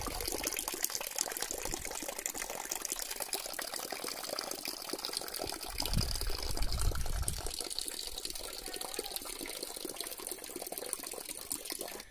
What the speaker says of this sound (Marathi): सांदण दरीच्या सुरुवातीलाच एक नॅचरली छोटासा झरा आहे